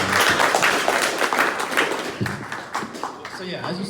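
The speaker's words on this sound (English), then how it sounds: "Clap it up." Audience clapping at a Chicago entrepreneurship event: a burst of dense applause that thins out into scattered claps, with some voices over it toward the end.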